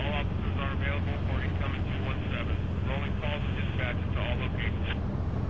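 Helicopters fly overhead during a scene in The Walking Dead video game, a steady broadband rotor-like drone running the whole time beneath continuous speech and game dialogue.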